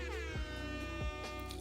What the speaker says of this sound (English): my air horn sounds really soft